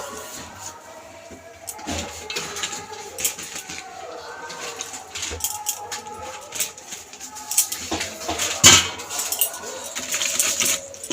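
Boiled Maggi noodles being stirred into omelette batter in a bowl, with irregular clinks and scraping taps of a utensil against the bowl, close by and growing busier toward the end.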